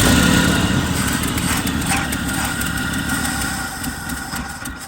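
The 250 engine of a 1968 Chevrolet C10 that sat unused for over a decade runs at a steady, rough idle, loud and close throughout with no pauses.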